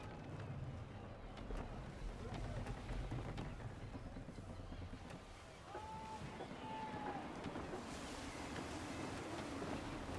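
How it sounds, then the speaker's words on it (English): Steady wind and rushing sea water around a sailing ship in the video game Assassin's Creed 3, a continuous gusty wash with a faint creak or whistle midway, heard without any talk. "Wind looks to be shifting. Stay alert, Connor. Gusty winds can be difficult to manage."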